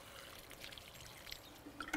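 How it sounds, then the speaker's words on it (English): Water is poured over indigo plants in a Shetland dye garden, a faint, quiet trickle and patter with a few small splashes near the end, no talk. "The indigo needs watering every day unless it's pouring with rain, so I'll just give it a wee little bit."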